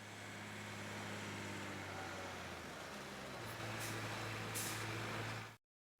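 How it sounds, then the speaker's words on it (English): A moving truck arrives in a 3DO video game, with a steady engine rumble, a brief hiss like an air brake near the end, and then sudden silence. "And the moving truck shows up,"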